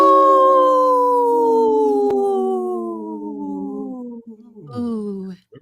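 A wolf howls alone in a long, clear, sustained wail that slowly falls in pitch, then breaks into short, soft whimpering whines at the end.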